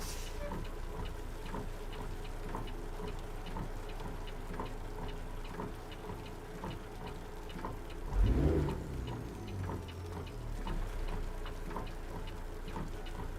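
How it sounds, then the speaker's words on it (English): Rain falls during a truck driving video game as a steady patter with regular ticking, and a brief low thump lands near the end. "And the rain sounds real."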